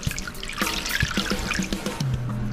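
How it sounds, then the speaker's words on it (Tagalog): Water is poured into a pan holding pork belly for boiling, a close splashing trickle with small drips and gurgles, steady for a couple of seconds. "Lagyan natin ng tubig,"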